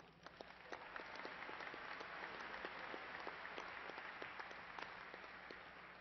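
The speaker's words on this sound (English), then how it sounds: "Please honor Jacqueline with a round of applause." A large crowd claps for a graduate at a university commencement, Angelo State's fall ceremony, with even, continuous applause that swells slightly and holds steady for about six seconds.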